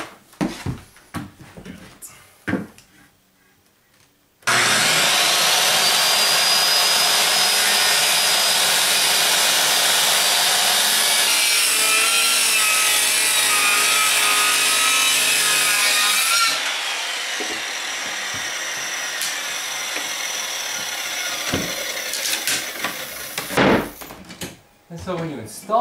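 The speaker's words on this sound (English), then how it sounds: "So I've angled my skill saw, and I'm just going to take off the corner right here." Angled circular skill saw slicing a corner off a piece of framing wood: a loud, sustained cutting roar for about twelve seconds that drops as the blade finishes and spins down, with a few handling knocks before and after.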